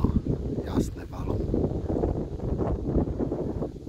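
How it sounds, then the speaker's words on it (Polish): Gusty wind buffets the microphone in low rumbling blasts, while a person talks over it nearby. "wiatr wieje, nie wiem, czy będzie mnie słychać"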